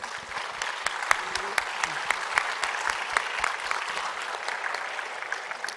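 Sustained audience applause at a conference session, dense and even clapping from a seated crowd that carries steadily throughout.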